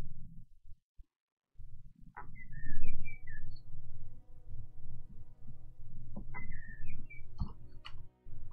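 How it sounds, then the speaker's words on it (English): Birds chirp and whistle in short bursts of rising calls, with a few quiet pauses, over a low steady rumble of outdoor background noise. "The birds in the back sound nice."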